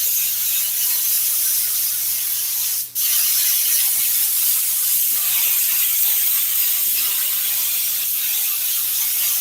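Aerosol spray can hissing continuously onto a seat, loud and close, with one brief break in the spray before it resumes steadily. No talking.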